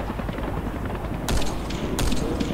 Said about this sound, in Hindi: तो इन लोगों को मार देता हुआ स्नाइपर से।